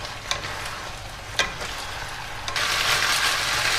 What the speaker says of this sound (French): Allez, je vais rajouter mes pousses de soja. Je vais remonter un petit peu le gaz et je vais les incorporer.